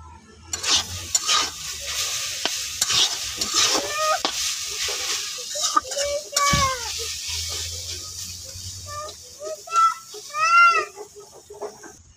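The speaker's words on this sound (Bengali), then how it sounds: "এদিকে ভাজিটা আস্তে আস্তে মজে যেতেছে, ভালোটিকে ভাজি নিতেছে" Vegetables frying in a pan over a low flame and being stirred, with a steady sizzle broken by scraping and clinking stir strokes, plus a few brief chirpy sounds in the background.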